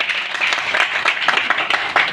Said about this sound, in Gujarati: એમની માટે જોરદાર તાળીઓ